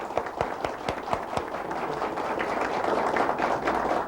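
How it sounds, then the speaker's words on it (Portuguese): A studio audience applauding, starting with a few distinct sharp claps and swelling into dense, continuous clapping from many hands that grows louder toward the end. "Uma salva de palmas para o comercial."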